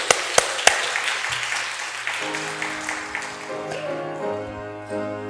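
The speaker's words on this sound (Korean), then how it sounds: "하나님께 영광의 박수 올려드리겠습니다." A church congregation applauds during a New Year's Eve worship service: a dense wash of crowd clapping with a few sharp claps, fading as sustained organ-like music chords rise beneath it.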